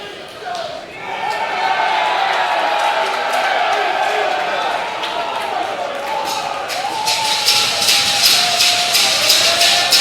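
An excited crowd at an ECW reunion wrestling show roars and cheers steadily throughout, a dense wash of noise under a commentator's continuous talk.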